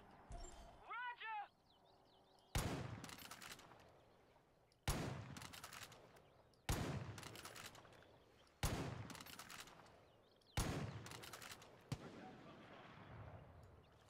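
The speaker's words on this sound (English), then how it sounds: "They need to fix the shooting in this game." Gunfire in the video game Far Cry 5, five loud sharp shots spaced about two seconds apart, each ringing into a decaying echo, with a brief voice-like sound near the start.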